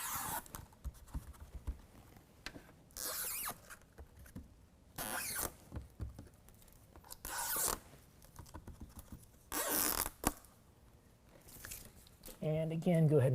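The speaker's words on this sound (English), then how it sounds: "Go ahead and peel out the rest of the tape." Adhesive tape is peeled from a tape-on window deflector on a 2022 Toyota Tundra, giving short ripping and crackling bursts spread across the clip with quiet gaps between them, close and fairly loud, with no talking.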